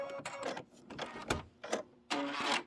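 A Kimberbell embroidery machine stitches a spring pennant in short mechanical bursts, with whirring runs broken by brief pauses and a louder sustained run near the end, heard close up with no talking.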